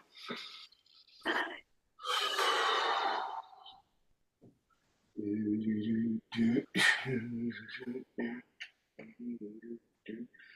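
Heavy, effortful breaths from a person holding a bent-arm plank after push-ups, heard as a series of close, loud exhales and strained breaths with pauses between them, alone in a quiet room.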